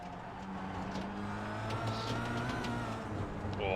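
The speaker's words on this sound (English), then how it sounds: "You can hear him desperately trying to slow down that Kia Optima" A Kia Optima touring car brakes hard on the Okayama race circuit, its engine note dropping and revving under heavy braking, loud and close with a steady roar throughout.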